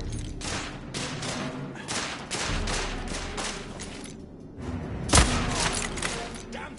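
Sniper and other gunfire in a military shooter video game, a steady fusillade of shots with booms and thuds and one sharp loud crack near the end, under the ongoing battle noise.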